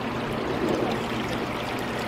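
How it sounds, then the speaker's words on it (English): Small decorative water fountain at a gem and mineral show trickles in a steady, soft continuous wash, close but low in level, with no talk over it. "You got some interesting little water fountains here."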